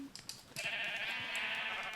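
A single sheep bleat from a video game farm with a water dispenser and wheat feeding, a short wavering cry heard alone and fairly faint after a few light clicks.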